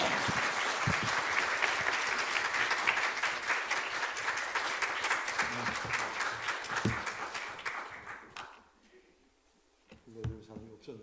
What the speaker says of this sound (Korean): 할렐루야 뜨거운 박수로 환영해 주시면